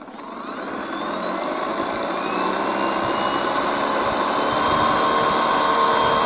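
An RC model's electric motor, powered by a homemade phone battery, spins up under held throttle, a loud, steady whine with rising tonal harmonics that grows and holds for about six seconds, with no talking.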